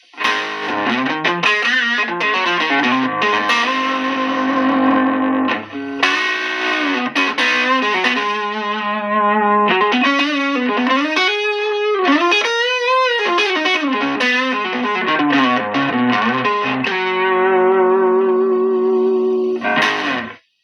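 Distorted electric guitar on the neck pickup through a VOX 50-watt amp, played alone for around twenty seconds: loud, saturated sustained notes and bends, with chords and bending lead lines flowing continuously and close up.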